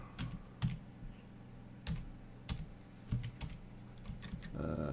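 Someone types on a computer keyboard in scattered, uneven bursts of close, crisp key clicks, with brief pauses between the runs of keystrokes.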